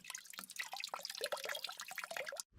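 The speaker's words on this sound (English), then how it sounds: "Rinse the container well using treated water and drain it through the tap." Water drains from the tap of a plastic safe water storage container during rinsing, a steady splashing trickle that cuts off abruptly near the end.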